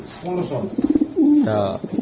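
Budapest racer pigeons at a wholesale pigeon sale coo up close in a series of soft, throaty, rolling calls, with brief voices in the background.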